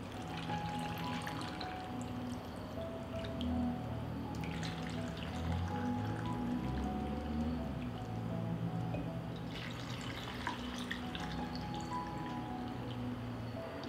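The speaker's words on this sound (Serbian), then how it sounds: "Tegle ću napuniti sa hladnom vodom." Cold water pours steadily into glass jars packed with washed sour cherries, a continuous close trickling and filling with small drips, with no voices.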